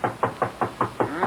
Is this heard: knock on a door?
yes